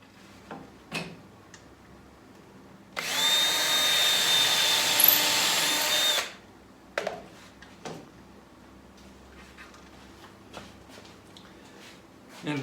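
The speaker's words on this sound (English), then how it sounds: "I will be drilling some holes and putting through pocket screws again just to hold it all together" A power drill whirs steadily for about three seconds, drilling pocket-screw holes in a wooden kiln box frame, surrounded by scattered clicks and knocks of workshop handling.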